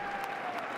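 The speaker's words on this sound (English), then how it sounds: "turn that clapping down" Audience clapping at President Biden's 2023 State of the Union address, a thick, steady burst of applause filling the whole moment with a faint tone threading beneath it.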